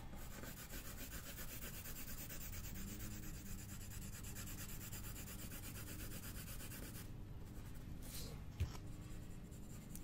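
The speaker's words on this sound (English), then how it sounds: "I'm going to color on that sticker as well." A marker or pencil rubs over a paper planner sticker in steady back-and-forth scratchy strokes, close and quiet, with a brief pause and a small tap near the end.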